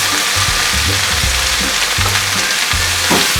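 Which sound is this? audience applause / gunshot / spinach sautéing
spinach sautéing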